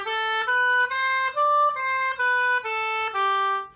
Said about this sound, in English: if you're tonguing on the tip of the reed